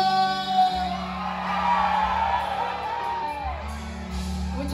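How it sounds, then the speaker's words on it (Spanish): Concert crowd at a live regional Mexican music show in North Carolina shouting and whooping together, a sustained loud swell of many voices with a rising collective yell, amplified music tones beneath. "Muchachos, qué bonito gritan, gracias"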